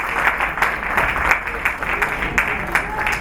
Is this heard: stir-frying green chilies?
no